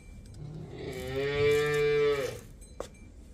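A single long, loud cow moo on a dairy farm where cows are kept for sale, rising and holding for about a second before fading, followed by a brief knock in the background.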